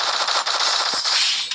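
Rapid gunfire from a shooter video game during a lone wolf match, loud dense bursts of shots rattling almost without pause, one sharp crack standing out partway through, with no talk.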